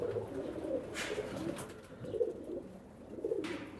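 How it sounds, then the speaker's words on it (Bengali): Pigeons, imported from Dubai and kept as flying and breeder birds, coo in a loft: soft, throaty calls repeat in rhythmic bursts about every second over a steady low murmur, with no voices. "এখানে সব রানিং উড়ানো কবুতরও আছে ব্রিডার কবুতরও আছে"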